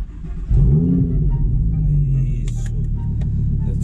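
An Audi R8 engine starts with a sudden loud rumbling catch, revs briefly and then settles into a deep steady idle close by, with faint clicks and rustling inside the car near the end.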